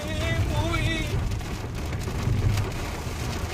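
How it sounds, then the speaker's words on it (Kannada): Heavy rain at Goyar Falls near Karwar, a steady dense hiss of drops with a low rumble beneath, loud and continuous, with a faint voice-like tone briefly over it. "ಮಳೆ ಬೇರೆ ಬರ್ತಾ ಇದೆ ಈ ಲೆವೆಲ್ಗೆ."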